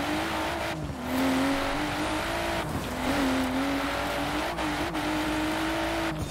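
A BMW M2 drives in the Forza Horizon 4 racing game on a stiff suspension setup over small bumps. Its engine note climbs and drops repeatedly through gear changes, with brief clunks between, and no one talks.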